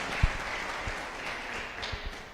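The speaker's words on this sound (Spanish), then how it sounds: "sí, denle aplausos al Señor" A church congregation applauds during a sermon, a steady wash of clapping heard from a distance at moderate volume, with a few soft thumps through it.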